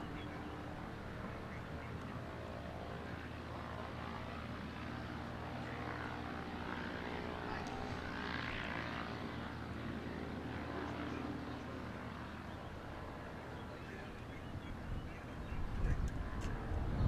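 Piper PA-28-140 propeller plane passing at Lelystad Airport, a steady droning engine hum that swells slightly midway and stays fairly distant, with a bump of wind or handling noise at the close.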